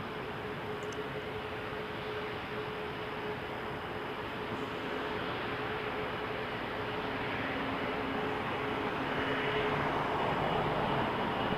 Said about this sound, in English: Porter headed to Halifax, flight 211, Embraer 195 E2